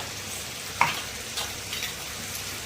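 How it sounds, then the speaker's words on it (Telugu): Spinach paste is stirred into a frying pan over a soft, steady sizzle, with one sharp scrape of a spoon and a few faint clinks. "ఇప్పుడు పేస్ట్ చేసుకున్న పాలకూర వేసేసుకుందాం. ఇలా వేసేసుకొని మొత్తం కలుపుకుందాం."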